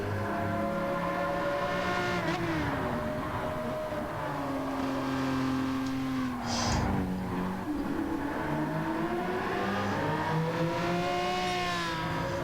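A race car engine in Gran Turismo 7 drones steadily, its pitch climbing and falling with gear changes and braking, with a short burst of tire scrub midway and other cars running nearby.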